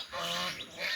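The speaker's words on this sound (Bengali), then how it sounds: "যেখানে বলছিলাম যে হাঁসগুলো চিৎকার করতেছে, চেঁচামেচি করতেছে।" Flock of ducks loudly squawking and honking together in a dense, continuous clamor outdoors on an open field, with overlapping calls close by.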